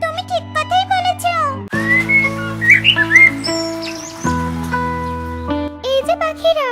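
Cartoon birds in a Bangla animated tale chirp and whistle in bright, sliding melodic calls, with chattering bursts at the start and end over sustained background music tones.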